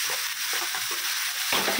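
Spice paste frying in a pan gives a bright, steady hiss while a spoon stirs through it with soft, irregular scrapes. A slightly louder stirring movement comes near the end of the short burst.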